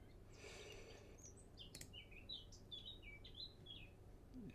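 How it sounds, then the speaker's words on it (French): Faint birdsong of quick, high chirps and tweets repeats over a few seconds above a low background hum, with no talking. "J'ai les oiseaux qui chantent."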